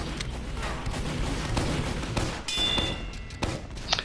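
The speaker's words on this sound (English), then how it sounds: "Every time you hear ding, that's damage being dealt. Because I have my hit dings on." A Team Fortress 2 hit-sound ding marking damage dealt on the Viaduct King of the Hill map, one brief high chime cutting through loud, continuous gunfire and explosions.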